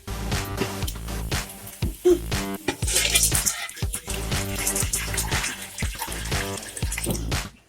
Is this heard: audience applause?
no